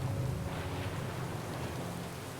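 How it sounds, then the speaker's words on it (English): Rain ambience for a fantasy role-play session forms a steady, dense wash of falling rain with a low rumbling bed, continuous and even throughout at a soft level. "the rain hasn't stopped the entire time"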